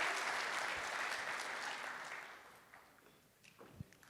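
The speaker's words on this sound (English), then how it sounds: "Give her a round of applause" A crowd at a police chief swearing-in ceremony applauds, a dense patter of clapping that fades to quiet after a few seconds, with a few scattered sounds at the end.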